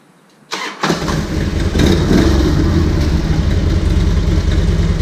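A Harley Electra Glide Ultra Classic motorcycle engine cranks and fires after brief quiet, then settles into a loud, close, rumbling idle that continues steadily.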